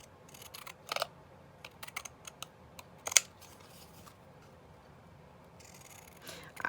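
Scissors snip through a small fabric tag for a quilting embellishment, giving a series of quiet, close crisp cuts and rustles scattered across a mostly still background.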